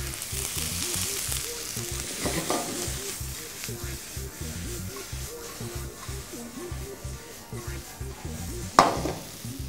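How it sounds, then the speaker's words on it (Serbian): Tofu cheese frying in butter in a pan beside vegetables and beefsteak, giving a steady close sizzle with stirring scrapes and a brief utensil clink near the end. "sir pustite da se izdinsta i isprži lepo u puteru"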